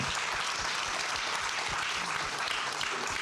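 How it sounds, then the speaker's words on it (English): Audience applause at an electric-vehicle panel event in Los Angeles, a steady dense clapping from a sizeable crowd that holds evenly throughout with no voices over it. "Could we have a round of applause for all of the people who put this event on?"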